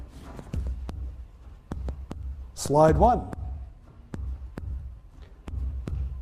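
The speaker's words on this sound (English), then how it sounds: "The headphones are amplifying their heartbeat." An amplified heartbeat heard through headphones, a steady low thumping pulse under a spoken voice.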